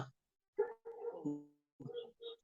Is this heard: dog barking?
yes